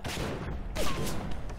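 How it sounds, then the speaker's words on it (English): A security turret in the video game Bioshock fires a rapid, continuous burst of gunfire, loud and dense throughout with no pauses, mixed with game noise. "Turret."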